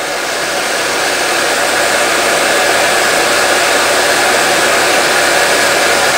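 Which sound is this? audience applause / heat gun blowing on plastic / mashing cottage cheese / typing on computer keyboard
heat gun blowing on plastic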